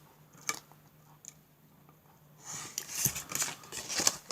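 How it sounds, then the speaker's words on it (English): Scissors snipping excess leather off a folded wallet piece, a few quiet crisp cuts early on followed by a louder burst of rustling and snipping in the second half. "Cut that excess off."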